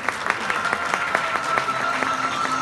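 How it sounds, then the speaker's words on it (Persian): Audience applause after a sung verse at a Persian music gathering, a steady wash of many hands clapping throughout at moderate loudness. "گرم تشویق بفرمایید"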